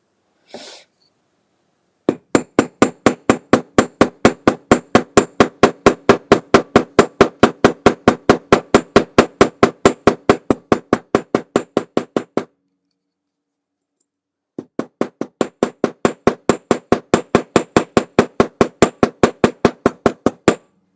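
Rivets are hammered with rapid, evenly spaced metallic blows, a long run of steady strikes up close, then a short pause before another equally regular series resumes.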